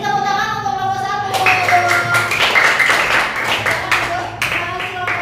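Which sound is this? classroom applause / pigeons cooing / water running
classroom applause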